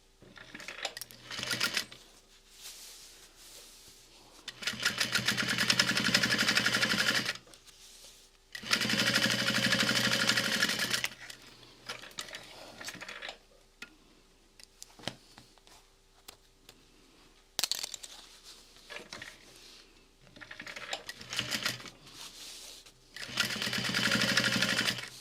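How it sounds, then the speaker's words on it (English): A sewing machine top stitches a clutch wallet in several bursts of rapid, close mechanical whirring and clatter, each a few seconds long, separated by quiet pauses and small handling noises. "So we're going to press this open and top stitch."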